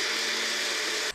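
A blender whirs loudly and steadily while blending soaked hazelnuts with water, a constant close motor roar that stops abruptly at the end.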